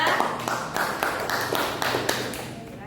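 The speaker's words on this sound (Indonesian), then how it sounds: "Beri tepuk tangan untuk kelompok 2" Classmates clap for a presenting group in a classroom, a loose patter of individual hand claps with sharp, irregular hits and a few voices underneath, fairly close and steady.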